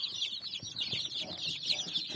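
Hens at a small poultry setup raising incubator-hatched chicks cluck in quick, close, continuous chatter.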